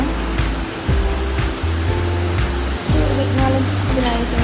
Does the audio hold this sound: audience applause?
no